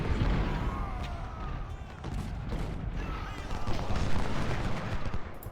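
Artillery and gunfire rumble through a Civil War battle at Bayou Fourche in Ultimate General: Civil War, a dense continuous barrage of booms and crackling shots, loud and steady throughout.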